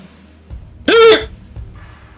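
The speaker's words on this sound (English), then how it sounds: "Yeah, I had to hiccup." A single sharp, loud hiccup from a person, abrupt and close, standing out against quiet background noise with faint murmurs around it.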